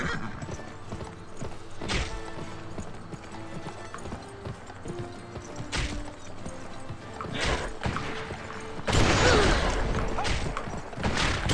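Horse hooves gallop and clip-clop in the Western video game Gun, with a whinny and sharp game effects over a music bed; a bright burst of noise near the end.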